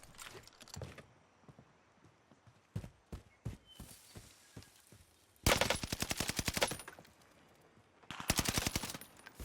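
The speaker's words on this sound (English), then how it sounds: "I'm just shooting him so he'll go away, to be quite honest." Rapid automatic gunfire in the Call of Duty Warzone video game, scattered single shots and short bursts, then two loud sustained volleys of rattling fire close up, with no talking.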